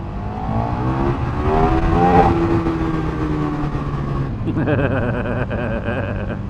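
A loud KTM 1390 Super Duke motorcycle engine with no exhaust fitted revs and climbs in pitch, drops back, then revs again with a raspy, unmuffled tone, close by.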